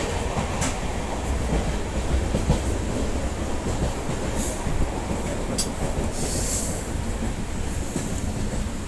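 Steady, loud rumble of a moving passenger train heard from inside the carriage on the Dharwad to Vasco route, with continuous low wheel and track noise and occasional brief higher squeals and clatter.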